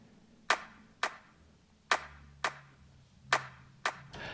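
Six recorded hand-clap samples played back one after another in Logic Pro X, sharp isolated claps at uneven spacing with varying loudness, some clearly quieter than others, over a faint background hum.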